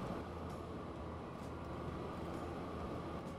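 Old trains run in the railway simulation game Transport Fever, giving a steady, even rolling rumble of rail cars with no talk.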